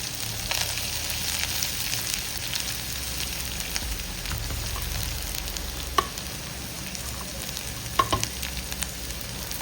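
Chopped green chilli and ginger frying in hot oil for an aloo samosa filling, a steady crackling sizzle with a couple of sharp stirring clicks, close and moderately loud.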